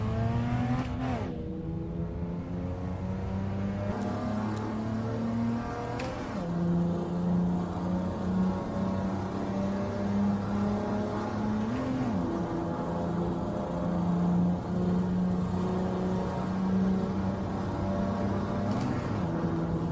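A tuned Toyota Hilux Champ in Assetto Corsa pulls away in second gear, its engine revving loud and close, pitch climbing in long surges with brief drops at each lift or shift across about twenty seconds.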